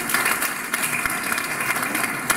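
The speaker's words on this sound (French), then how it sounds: "j'aimerais bien un petit peu d'applaudissement pour Gérard" Applause from the audience at a French municipal public meeting, a steady wash of clapping at moderate level with no clear speech.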